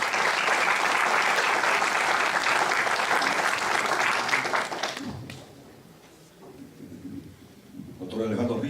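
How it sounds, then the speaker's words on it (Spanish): An audience at an academic ceremony on mathematics gives loud, sustained applause that fades out after about five seconds, leaving room noise and a speaking voice. "Vamos a recibir con un fuerte voto de aplauso"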